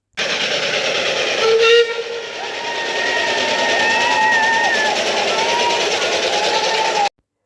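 A steam bus chugs steadily with a brief whistle toot early on, hissing and rumbling continuously amid crowd chatter and voices, in Minehead.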